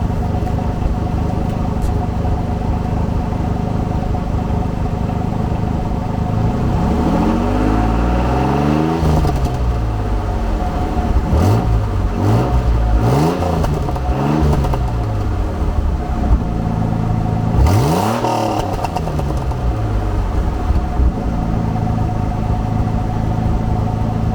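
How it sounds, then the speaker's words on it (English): Exhaust note of a Pontiac Fiero GT while driving on the road: a continuous close engine drone that rises and falls through several rev-ups and gear changes, loud and steady throughout. "try 2 at getting exhaust note from Fiero"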